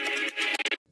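A dry, unprocessed glitch guitar plays a bright, sustained tone that breaks into rapid stuttering chops before cutting off abruptly, close and fairly loud.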